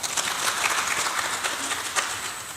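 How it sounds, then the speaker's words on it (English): Applause from the audience at a public lecture, a moderate, continuous spread of clapping hands heard at a slight distance across a hall. "A round of applause for Honorable Kachali."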